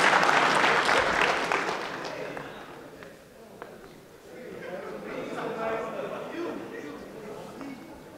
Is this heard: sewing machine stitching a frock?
no